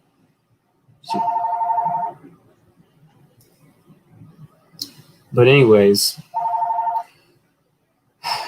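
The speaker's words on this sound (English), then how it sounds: "it's a phone ringing, but it's not for me" A telephone rings in two clear bursts about five seconds apart, each a steady electronic trill lasting roughly a second, with a person's brief speech in between and another short sound at the end.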